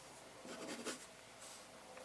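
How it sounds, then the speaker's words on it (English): A pencil is pressed hard to shade a dark area on paper, making faint, soft scratchy strokes in short bursts, close and quiet. "So this way I'm holding my pencil quite aggressively"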